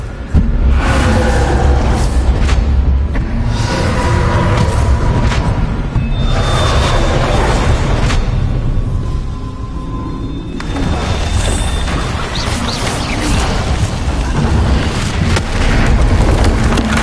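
Confringo blasting spell explosions in the Hogwarts Legacy video game, a long run of heavy, rumbling booms and crackling blasts that roar on for over fifteen seconds, briefly easing midway before building again, with a faint tonal hum in the background.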